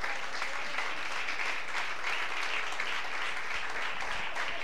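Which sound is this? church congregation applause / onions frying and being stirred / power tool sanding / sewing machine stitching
church congregation applause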